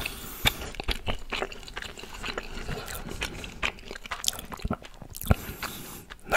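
Close, quiet chewing of young coconut and Kashmir ladoo, with soft wet bites, squishes and crunches in an uneven rhythm and no talking.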